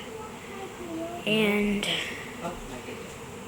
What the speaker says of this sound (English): There are bees, millions flying over there.